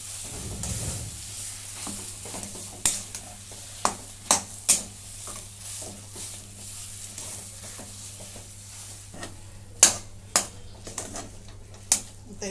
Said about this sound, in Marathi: आणि मीठ टाकून घेते चवीप्रमाणे. सर्व मिक्स करून घेते.